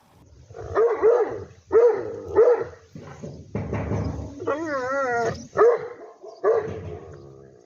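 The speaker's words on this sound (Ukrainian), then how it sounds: "І один тільки гавкіт цієї собаки може налякати любу людину." A big Alabai dog barks in loud, deep bursts, several separate woofs spaced out, with a whimpering or whining sound in between.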